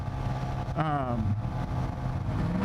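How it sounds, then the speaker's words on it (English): A loud vehicle exhaust rumbles steadily in the background while a person talks over it. "loud exhaust"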